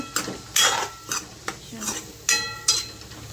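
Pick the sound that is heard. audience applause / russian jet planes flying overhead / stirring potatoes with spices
stirring potatoes with spices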